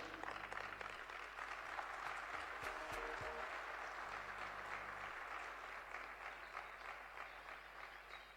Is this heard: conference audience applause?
yes